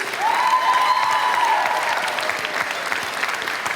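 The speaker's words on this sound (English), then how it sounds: "a big round of applause for ourselves, right? The students." A crowd of students at a youth startup expo applauds, broad steady clapping with a whoop rising early on, continuing at even loudness to the end.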